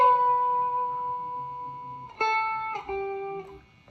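Electric guitar plays the solo from the 5/10/1978 show, sustained single notes joined by slides, a held tone shifting up then down in pitch, clear and alone with no talking.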